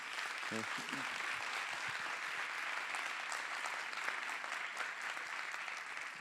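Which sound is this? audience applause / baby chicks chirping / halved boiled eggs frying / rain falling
audience applause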